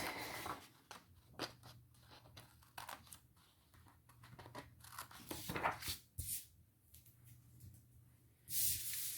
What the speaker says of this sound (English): Get my nice scissors out.